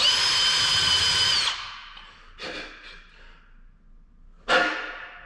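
A power drill whines steadily for about a second and a half, then stops; a couple of brief, softer bursts and one sharp burst follow.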